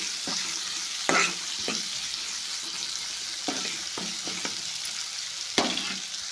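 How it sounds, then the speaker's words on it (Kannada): Onions frying in a pan with a steady close sizzle, broken by repeated scraping stirs at irregular intervals, a couple of them sharper and louder. "ಈಗ ನೋಡಿರಿ ಇವು ಉಳ್ಳಾಗಡ್ಡೆ ಎಲ್ಲ ಫ್ರೈ ಆಗ್ಯಾವಲ್ಲ"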